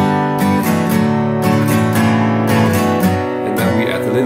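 Acoustic guitar strummed in a steady down-down-up pattern across the chords of the chorus second line of a song, ringing and full with even, repeating strokes, no voice.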